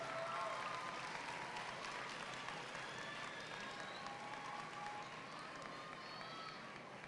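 An audience applauds the top ten freshman students at a high school awards ceremony. The clapping is steady but faint and distant, with a noisy room tone behind it.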